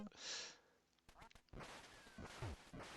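Quacks and electronic game sounds from the NES game Duck Hunt, with a bright synthetic tone followed by chippy, faint sound effects.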